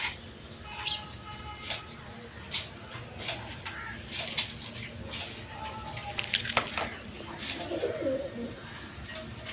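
Pigeons coo softly and repeatedly at a breeding loft, low throaty calls rising and falling over a quiet room with occasional wing or perch noises.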